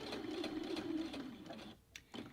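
A sewing machine runs a regular-width stitch through fabric for a suitcase-style passport cover, giving a quiet fast mechanical whirr and clatter that pauses briefly, then restarts for a short burst.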